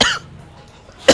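A single short cough at the start, then near silence, followed by another brief burst of a cough or voice at the end.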